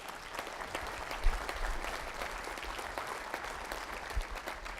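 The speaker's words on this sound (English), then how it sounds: "Let's give them a round of applause." An audience at an agricultural summit welcome session gives students a round of applause: steady, even clapping from a full room lasting several seconds, with a few louder claps near the start.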